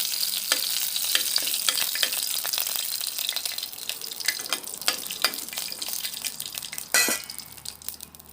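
A bay leaf and dried red chilli frying in a little mustard oil, making a steady bright sizzle with intermittent crackles and spoon scrapes, and a sharper clatter near the end.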